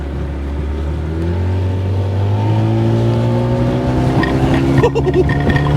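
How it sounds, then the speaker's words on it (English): A 40 hp Johnson outboard motor on a 16-foot Bass Tracker boat roars steadily and climbs in pitch as the boat speeds up, loud and close, with rushing water and wind underneath. "I ain't never had a boat take off like this before"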